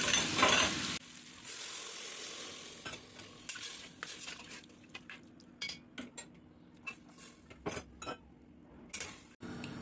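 Beef tongue frying in a pan with tomato and chickpeas, a steady sizzle broken by repeated clinks and scrapes of a utensil stirring against the pan, close and fairly quiet, with no talk.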